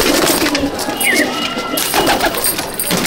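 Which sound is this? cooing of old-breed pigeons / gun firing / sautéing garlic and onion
cooing of old-breed pigeons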